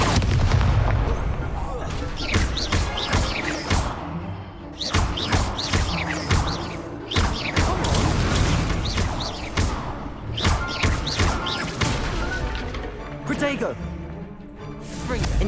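Fire spell blasts cast again and again in Hogwarts Legacy, a dense run of loud booming bursts and crackling impacts that keeps going with barely a pause, under a voice calling out spell names.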